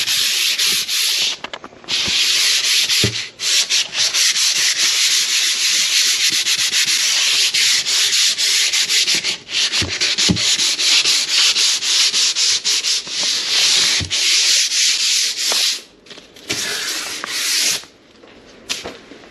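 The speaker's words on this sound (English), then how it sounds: "Scuff this up. And then scuff this really good." Steady, loud sanding scuffs a primed cabinet box before painting, a continuous close abrasive rasp broken by a few brief pauses, with no voices.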